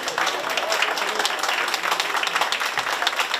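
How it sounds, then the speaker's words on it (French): Applause fills the room at a Passion Chocolat 2024 chocolate show demonstration, a dense, even patter of many hands clapping for a few seconds with no speech over it. "On applaudit Lilian, s'il vous plaît."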